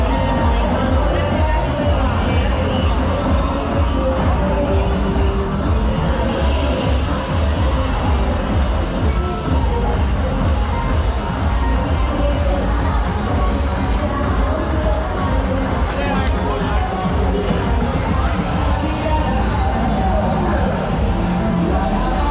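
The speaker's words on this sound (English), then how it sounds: "The crowd has thinned out." Dense festival crowd on Walking Street in Pattaya during Songkran, with a steady roar of babble, scattered shouts, cheers and children's squeals under thumping background music, loud and continuous throughout.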